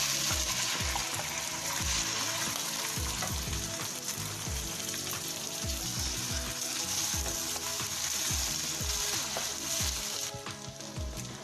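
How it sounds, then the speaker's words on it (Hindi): Rice tipped into a hot pan of oil with cloves, sizzling loudly and steadily while a spoon scrapes and stirs in frequent knocking strokes, close up and with no talking. "अब मैं इसके अंदर चावल डाल दूंगी।"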